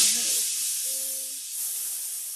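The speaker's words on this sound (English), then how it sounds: "Let off some steam." Steam iron releasing a steady, loud hiss of steam over a quilt block, continuing unbroken through the whole moment, with a faint brief tone in the background.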